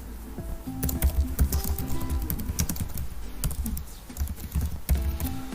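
Steady close clatter of fingers typing on a computer keyboard, with irregular bursts of key presses and brief pauses, alone without talk.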